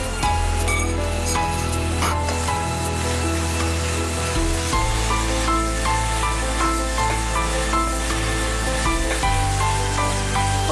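Masala paste hits a hot pan with small onions, curry leaves and turmeric, setting off a loud, continuous sizzle and spattering hiss that stays dense and steady throughout, with a few faint utensil clinks.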